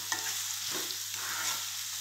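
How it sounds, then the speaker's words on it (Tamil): Onions softening in a pan for mutton kulambu, a low, even hiss of oil running throughout with only faint movement, steady and fairly quiet, no voices. "இந்த வெங்காயம் வதங்கட்டும்."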